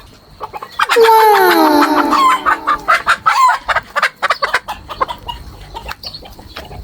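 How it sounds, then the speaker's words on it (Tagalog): Backyard chickens squawk and cluck loudly and agitatedly as they are caught by hand, with a burst of harsh calls at first and then choppy, broken clucking; one voice exclaims briefly. "Ganito lang magdakop og manok."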